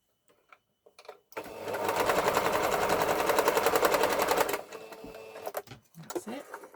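A sewing machine stitches the top seam of a circle dress panel in one loud, steady whirring run of about three seconds, with faint handling noises before and after.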